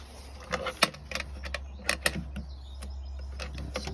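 Clamps are tightened on a beehive, producing close, irregular metallic clicks and clanks over a steady low hum, with a few louder knocks early and quieter handling afterward.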